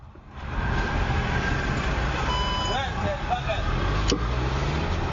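Road traffic with a car passing close by, a steady engine rumble and roadway hiss, faint tonal beeps and a brief clatter near the end.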